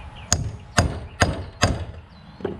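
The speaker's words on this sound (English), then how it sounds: "I can use it to tap this race down in there" Four sharp metal taps from a socket driving a boat trailer wheel bearing race into its hub, evenly spaced and close, with a fainter fifth tap at the end.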